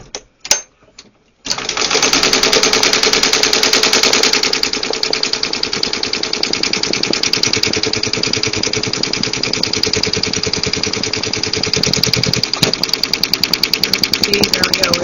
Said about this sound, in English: just to make sure the machine is running right and stitching correctly